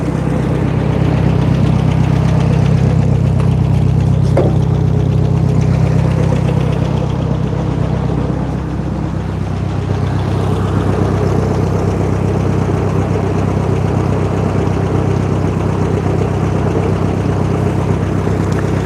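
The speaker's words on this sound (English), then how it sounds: "Come for a ride on the tractor, take it down the front." A farm tractor on a New Zealand lifestyle block runs close by with a steady, loud idling drone and slight knocking vibration, continuous and alone.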